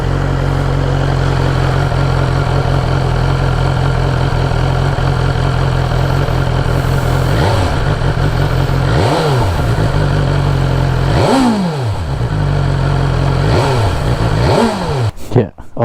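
A 2022 BMW S 1000 XR TE motorcycle with stock exhaust idles close by with a steady, rumbling note, then revs up in several quick throttle blips that rise and fall, ending with a brief clatter.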